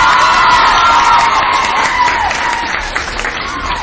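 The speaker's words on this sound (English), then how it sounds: "Big round of applause for all the girls." Pageant audience at the 2003 Huntingburg Herbsfest applauding and cheering for the contestants, loud dense clapping with whoops and shouts that gradually eases off.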